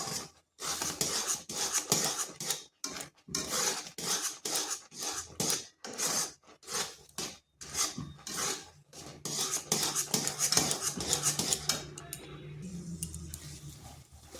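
A spoon stirs a thickening powdered-milk mixture in a pan over low heat. Rhythmic scraping strokes come in quick bursts with short pauses, close and fairly quiet, and settle into a softer continuous rub near the end.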